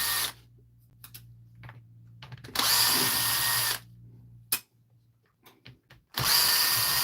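A power drill backs screws out of the case of a DeWalt hammer drill in a repair workshop: two close, loud whirring bursts of a second or so each, with small clicks and handling sounds between them.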